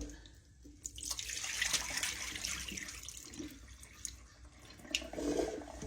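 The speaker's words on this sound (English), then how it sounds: "And then drain this water out." Rinse water pours out of a pot of potatoes into a kitchen sink, a soft continuous splashing and gurgle lasting several seconds, moderately quiet and heard alone without talk.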